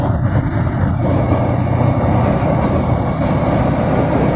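A Yamaha R15 V3 BS6 motorcycle pulls hard in fourth gear to overtake, heard from on board as a steady, close engine drone mixed with road and wind rumble, with no talking.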